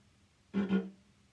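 A cello imitating a frog: one short, low croaking burst with a rough, buzzy double pulse, heard alone and close.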